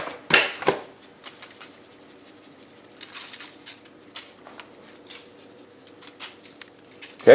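Hands pat a salt, pepper, garlic powder, onion powder and celery seed rub onto a slab of pork ribs, making soft, irregular, close-up pats and light rubbing with brief pauses between them.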